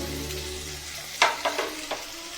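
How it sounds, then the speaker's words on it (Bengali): Chopped onions frying in a pan over a raised flame until browned for birista and mutton biryani, giving a steady close sizzle with a few sharp stirring scrapes near the end. "লাল করে আমি পেঁয়াজগুলো ভেজে নেব"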